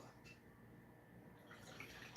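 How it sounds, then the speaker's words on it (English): Pepsi Zero Sugar cola pours in a steady, close, fizzy stream for about two seconds, with a soft hiss and crackle of carbonation rising slightly toward the end. "Listen to that endless pour"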